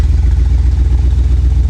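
A 1985 Chevy Corvette V8 idles steadily close by, a loud, smooth, even low rumble with a regular pulsing beat and no voices over it.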